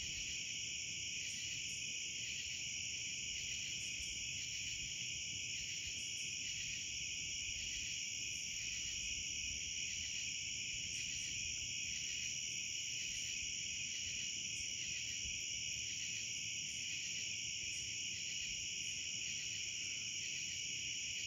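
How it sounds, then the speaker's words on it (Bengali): Crickets chirp in a dense, steady, high-pitched chorus that pulses evenly and continuously, with no voices and a soft low background rumble. "আর এখানে ঝিঁঝি পোকার ডাক শুনছেন।"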